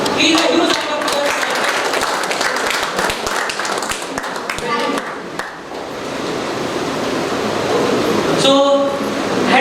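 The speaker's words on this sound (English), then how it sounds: "Please, a huge round of applause." An audience at a university award ceremony claps, a dense loud patter of hands that eases off midway and then rises again, with some voices mixed in.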